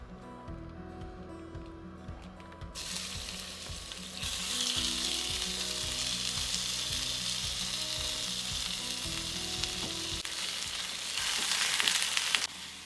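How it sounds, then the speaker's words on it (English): Food frying in a skillet on a small propane stove outdoors, a loud steady sizzle that starts after a few seconds of low tonal sounds and swells louder near the end, no talking. "This browns so quickly on these little propane stoves."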